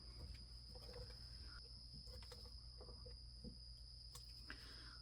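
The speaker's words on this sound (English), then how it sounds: "That cricket sure does seem to have a lot to say." A cricket chirps indoors in a quiet room, a faint, constant high trill running without pause over low background hum, with a few soft clicks and rustles nearby.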